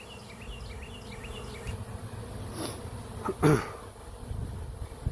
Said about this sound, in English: this is the colony that they swarmed from, that you've seen them flying out of so quickly